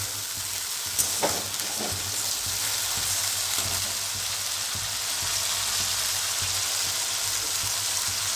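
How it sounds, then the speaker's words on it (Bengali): Spices for fish kalia sizzle steadily in a frying pan, a continuous close hiss of frying with a few soft stirring knocks near the start and no voices. "এবার এই মশলাগুলো কষানো হয়ে গেলে আমি একে একে বাকি মশলাগুলো দিতে থাকবো।"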